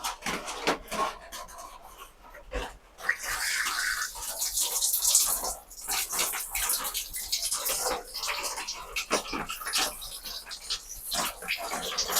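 Red amaranth greens being washed under a running tap, with steady splashing and rushing water throughout, close and fairly loud, interrupted by brief handling noises and no speech.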